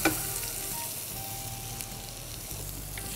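Garlic frying in hot olive oil makes a continuous sizzle with small crackles and an occasional stir, moderately close and without talk.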